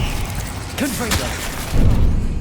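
A Confringo fire spell in Hogwarts Legacy goes off as a short, thudding explosive burst that follows a brief voiced cast and fades quickly.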